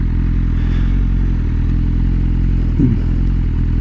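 A BMW M1000R motorcycle idles loudly with a steady mechanical clatter, and a brief clunk near the end as the gearbox is worked into neutral with the clutch pulled in.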